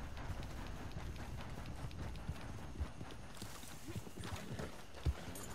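A horse gallops in Red Dead Redemption 2, its quick clip-clop hoofbeats running in a steady rhythm close by, with a few heavier thumps standing out.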